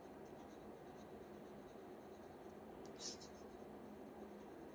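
A pencil rubs and scratches across paper, shading hair in a portrait drawing, faint and close with a steady soft texture and one brief sharper stroke.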